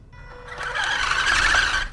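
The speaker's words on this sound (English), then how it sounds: "that's the tires making noise" Tires of an RC crawler car squeal in a loud, close, sustained high whine that swells over two seconds, with no talking.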